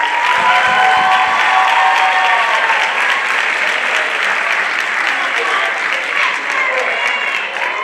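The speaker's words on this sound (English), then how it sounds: "Give them a round of applause." Loud, dense applause fills a high school gym at a Black History Month celebration, with cheers and voices mixed into the sustained clapping for several seconds.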